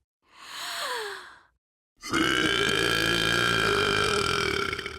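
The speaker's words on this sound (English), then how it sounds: "just practicing for the next burping tournament." A cartoon character from Transformers: Rescue Bots burps twice, a short gravelly belch followed after a brief silence by a long, loud, sustained rumbling burp, close and alone.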